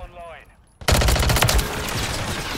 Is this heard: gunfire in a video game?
yes